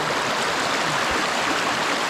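River water flowing steadily in a continuous broadband rush, close and even throughout, with no voices over it.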